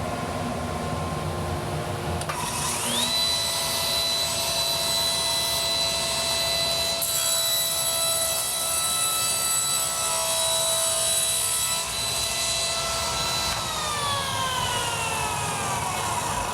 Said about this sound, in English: I'm going to cross-cut it, which is good. It will let me test my cross-cut sled out